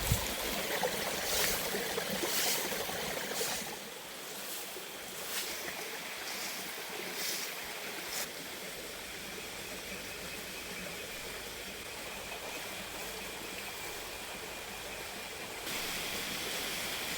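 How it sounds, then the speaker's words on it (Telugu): A hill stream in a forest flows steadily, its continuous rushing and babbling water close and moderately loud throughout, with a few brighter splashy bursts early on. "ఈ అడవితో పాటు ఈ వాగు ఎంత ప్రశాంతంగా నీరు అయితే పారుతున్నాయో"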